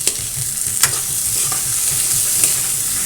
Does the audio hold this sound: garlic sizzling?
yes